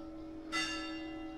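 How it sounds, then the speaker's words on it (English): A church bell in an Abruzzo town strikes once with a bright, ringing tone that hangs and slowly fades over a steady low hum. "just remember that the church starts its bells at 9 o'clock"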